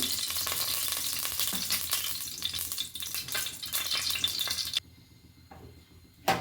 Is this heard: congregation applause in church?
no